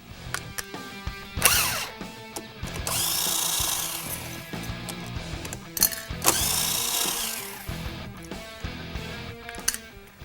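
An impact wrench rattles in short, loud bursts, spinning off fasteners during a clutch change, with longer whirring runs between sharp clanks of parts and tools close by.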